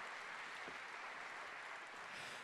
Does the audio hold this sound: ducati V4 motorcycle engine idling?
no